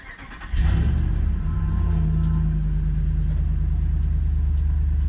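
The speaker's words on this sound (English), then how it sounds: "so let me start the truck" A Ram truck engine cranks over and catches, then settles into a steady, loud, close idle with a constant low rumble that holds without any voice.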